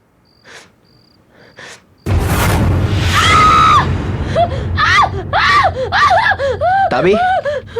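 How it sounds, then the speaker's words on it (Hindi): A woman screams in fright in a Hindi-dubbed horror thriller film: a quiet, insect-like night ambience, then a sudden loud boom and a long piercing scream, followed by frantic overlapping cries and speech. "तुम ऐसी चीखी क्यों?"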